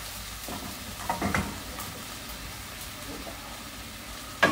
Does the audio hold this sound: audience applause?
no